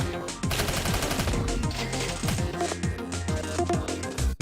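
Rapid gunfire from a submachine gun in the video game Snezhinka: Sentinel Girls 2, dense fast bursts of shots with sharp repeated cracks, loud and continuous with brief gaps.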